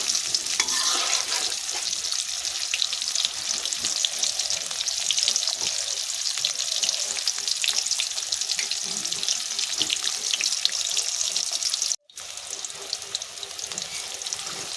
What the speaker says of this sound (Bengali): নেড়ে চেড়ে দেবো, ভালো করে লাল লাল করে ভেজে নেব